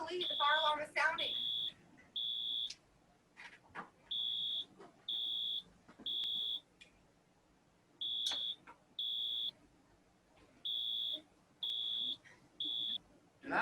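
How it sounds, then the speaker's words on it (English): Inside a building, a fire alarm sounds a repeating pattern of piercing high electronic tones in bursts of roughly a second with short gaps, and a person talks briefly at the start. "The fire alarm is sounding."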